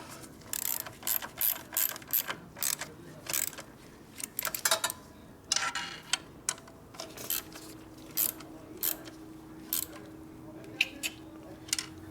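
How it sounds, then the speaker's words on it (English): A wrench ratchets in short bursts of rapid clicking on a starter bolt during service on a Harley panhead, with irregular repeated pulls close by and quiet gaps between them. "Is that the torque wrench?"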